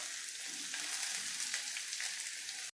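Grated onion and ginger fry in hot oil for a veg Manchurian, giving a steady, soft hiss and crackle close by with faint stirring scrapes.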